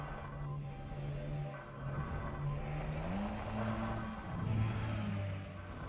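An SRV ground vehicle in Elite: Dangerous hums and whines as it picks up speed, its engine tone gliding upward and shifting pitch over a steady rumble, moderately loud with no talking.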